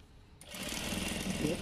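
Sewing machine stitching a pinafore, starting after a brief quiet moment and then running steadily and fairly close with a continuous whirring hum.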